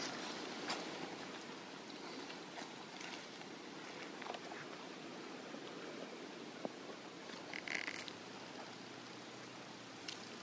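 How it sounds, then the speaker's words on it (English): Steady rain patters through the woods during a wet turkey hunt on Mississippi public land, a dense even hiss with occasional nearby drips and ticks, with no talking. "the rain followed us here"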